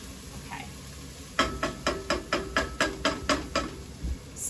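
A spoon scrapes and clinks rhythmically in a pot of cooking onions, about nine regular strokes, close and moderately loud, with no talking.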